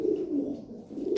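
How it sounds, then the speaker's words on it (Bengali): An imported racing pigeon gives a soft, low, throaty coo from close by. It is a single brief rolling call in a quiet setting. "একদম টপ কোয়ালিটি কবুতর, ইম্পোর্টেড।"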